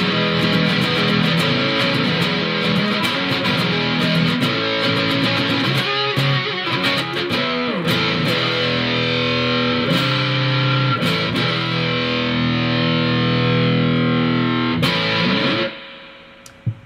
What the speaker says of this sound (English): There you have it, a couple famous Big Muff sounds, all achieved through one pedal, the JHS Muffuletta.